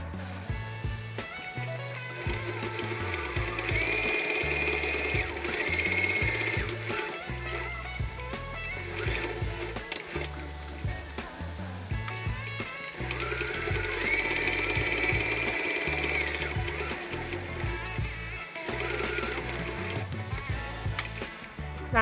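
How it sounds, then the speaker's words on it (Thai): A sewing machine stitches around the marked line of a DIY shoulder bag, whirring in long steady runs that stop and restart, with mechanical clicks in between. "ให้เพื่อนๆนำไปเย็บ รอบเส้นที่เราตีไว้ได้เลยค่ะ"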